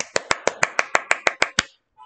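A teacher and class clap together in a lesson, ten crisp, evenly spaced claps in a quick steady rhythm, close and clear, stopping abruptly and followed by a faint tone.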